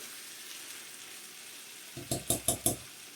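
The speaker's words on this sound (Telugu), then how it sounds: "వేయకుండానే ఫ్రై చేస్తున్నాను" Chicken frying in a pan without food colouring, a faint steady sizzle followed by four quick metallic scraping strokes of stirring near the end.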